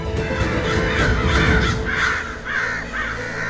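Crows cawing in a rhythmic series of harsh calls, about five caws in a row over a dense, constant background noise, moderately loud and fairly near.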